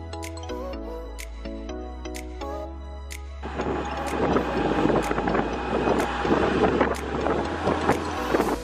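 A tractor pulls a hayride trailer at a South Carolina pumpkin patch; a steady low hum gives way to a louder, rough engine rumble that grows and persists, with no talking.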